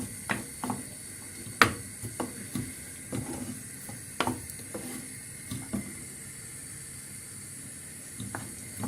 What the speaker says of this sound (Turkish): kaşıkla soğanlarımızı kavurmaya başlıyoruz